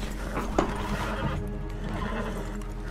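A horse in the video game Red Dead Online whinnies once, sharp and close, over a steady hum of game background noise and faint hoof clops.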